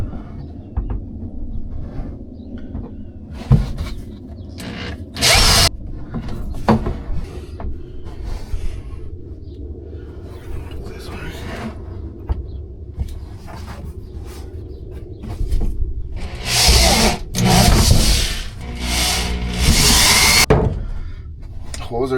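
A power drill boring holes for a homemade toolbox, with a few short whirring bursts early on and a longer, louder run of drilling near the end, amid handling knocks and clatter.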